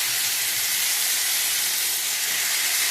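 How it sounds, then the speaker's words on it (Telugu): Eggplants drop into hot oil in a home kitchen and sizzle loudly, a dense, steady hiss that holds unbroken throughout. "ఇప్పుడు వంకాయలు వేసేసుకోవాలి."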